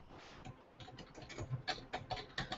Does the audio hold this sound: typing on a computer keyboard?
yes